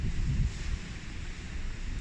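Gusty wind buffets the microphone on an outdoor hike with a deep, rumbling roar, strongest early on and then easing into an uneven blustery drone.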